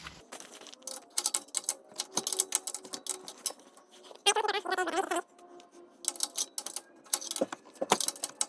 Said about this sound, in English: Now I'm gonna go up there with a wrench to twist it off.